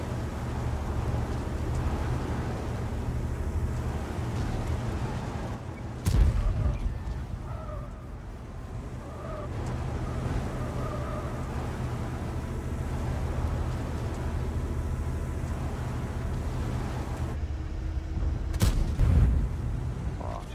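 A tank cannon fires twice in the World of Tanks video game, the sharp blasts roughly thirteen seconds apart over a steady rumble of engines and battle noise.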